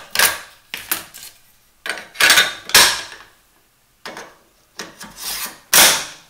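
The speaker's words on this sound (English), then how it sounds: "Putting an M4 in place" An M4 rifle is set into a gunsmithing vise fixture, with a series of short scraping, rubbing and clacking handling sounds in separate bursts, close and fairly loud.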